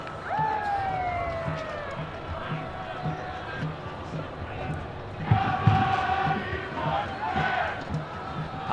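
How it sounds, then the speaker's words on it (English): A football stadium crowd roars and chants at kickoff of Birmingham Legion FC vs Atlanta United FC in downtown Birmingham, a broad continuous din with rising cheers and whistle-like tones. "I kind of want to sit back and just listen to this crowd and this atmosphere"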